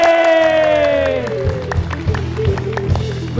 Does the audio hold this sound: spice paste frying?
no